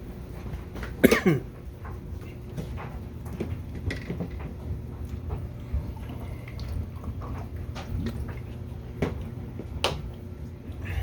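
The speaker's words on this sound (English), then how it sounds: "I don't know why I'm coughing so much." One sharp cough breaks out near the start, followed by a quiet stretch with a few faint clicks and small throat sounds.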